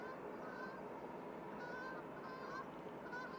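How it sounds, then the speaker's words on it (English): A few honks from geese flying over near Manchester Airport, faint and somewhat distant, come in short repeated calls over a steady background hum. "Oh, we're gonna get geese"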